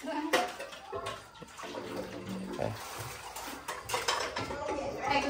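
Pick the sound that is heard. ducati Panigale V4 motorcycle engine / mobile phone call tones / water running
water running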